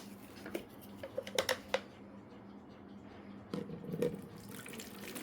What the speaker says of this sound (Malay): Air sebanyak 161 gram. Tuang.